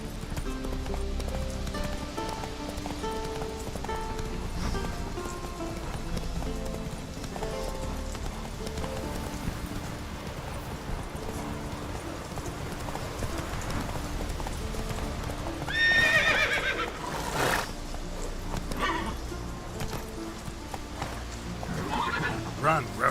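A horse in the video game Witcher 3 gallops with a steady, close clip-clop of hooves throughout, and a loud whinny breaks out around the middle of the run.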